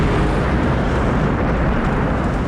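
A fiery explosion in the Robocop movie, a loud, sustained low roar of blast and burning that fills the whole moment without a break, with no voices over it.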